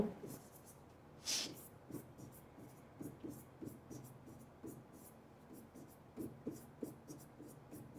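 Chalk or marker strokes on a board during an organic chemistry lecture on IUPAC naming, heard as soft, close scratchy taps in an irregular rhythm, with one brief louder squeak near the start.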